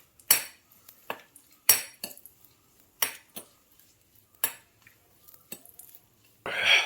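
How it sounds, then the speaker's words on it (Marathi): A spoon stirs cardamom pods roasting in a pan for goda masala, producing a series of about eight sharp metallic scrapes and clinks in an irregular rhythm, close by, with quiet pauses between them. "आता आपण त्याला मसाला वेलची घातली बघा, ती भाजून घ्यायची."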